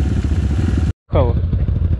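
An ATV quad bike engine chugging loudly at close range on an enduro trail, cutting out briefly and then revving back up, while people talk over the noise.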